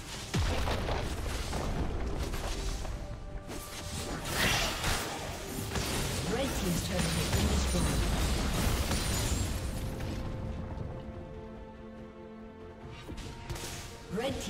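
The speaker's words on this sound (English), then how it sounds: "Red team's turret has been destroyed." Booming explosions, crashes and whooshing effects in a League of Legends match as an enemy turret is destroyed, a dense continuous layer of game action sounds with an announcer voice over it.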